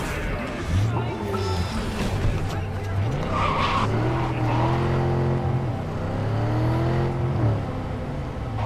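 Car driving in Cyberpunk 2077, steady engine drone with tire skids and squeals throughout, under ongoing game music and a voice.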